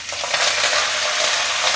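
Fennel seeds and dried chillies fry in hot oil in a pan, giving a loud, dense, continuous crackling sizzle close up with no voices.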